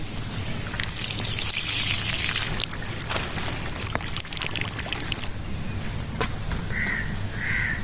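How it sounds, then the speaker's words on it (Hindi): Water drains off soaked rice while making chana pulao in a village kitchen, a close, steady splashing pour for about five seconds that then thins to a softer trickle, with no talking. "और हम चावलों से पानी अलग कर लेंगे।"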